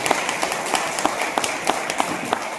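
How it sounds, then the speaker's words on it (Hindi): Seminar audience applauding a guest speaker, dense steady clapping with sharper individual claps standing out, fairly close and sustained throughout. "जोरदार तालियां होनी चाहिए उनके लिए"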